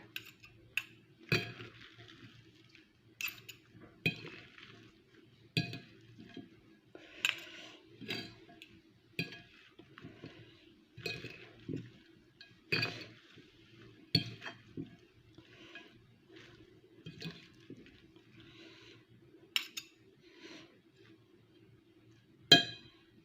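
Avocado and mixed-greens salad tossed with utensils in a bowl, giving a run of light, irregular clinks and taps at close range over quiet background, with no talking.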